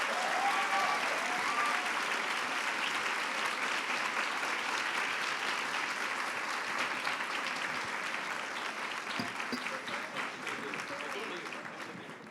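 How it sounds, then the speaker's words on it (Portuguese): An audience at a book fair debate on authoritarianism and democracy gives sustained applause, a dense wash of clapping from a large crowd that holds steady and then slowly fades. "Salva de palmas."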